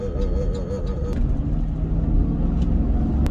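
A 2009 Chevy Silverado on worn, damaged tires rattles as it drives, giving a steady, loud low rumble of road and body vibration that continues without a break.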